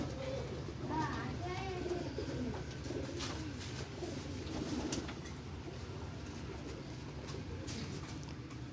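Pigeons coo softly in a pigeon house in the late afternoon during bad weather, heard faintly under a steady background rumble.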